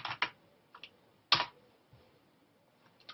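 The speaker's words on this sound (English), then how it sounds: "I can just type that in as a new tag." Keys tapped on a computer keyboard in a few quick bursts with pauses between, close and clear in a quiet room.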